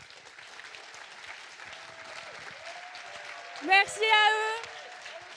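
Conference keynote audience applauding volunteers as they come on stage, a steady wash of clapping throughout with someone speaking briefly over it near the end.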